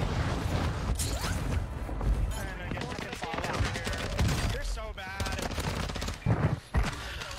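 Sustained automatic gunfire in a Warzone 2 battle, fast bursts and scattered shots from several directions, loud and close, with a voice talking over it at times.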